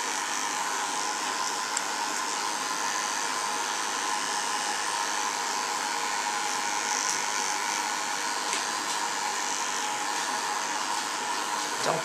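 Electric clippers buzz steadily and closely for a long unbroken stretch while shaving a ten-week-old poodle puppy's face, feet and tail, with no voices.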